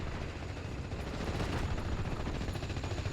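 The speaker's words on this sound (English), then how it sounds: "Panzer Grenadier is now under fire from the Humber Mark III" A Humber Mark III armoured car fires on infantry in the WWII strategy game Steel Division: Normandy, a dense continuous rattle of gunfire and explosions at moderate distance that builds slightly louder.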